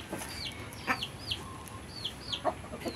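Chickens clucking beneath a kamias tree, a run of short rising clucks and chirps spaced irregularly over a soft outdoor background, moderately close.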